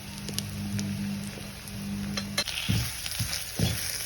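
Ground Kashmiri chilli, garam masala and coriander powder sizzle in hot oil in a pan for a beef heart roast, a steady frying hiss joined midway by several soft scraping stirs, close and alone without talk.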